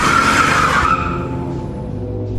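A Porsche skids to a stop as a comic-dub sound effect: a loud, high tire squeal with engine noise that fades within about a second, then a low rumble lingers.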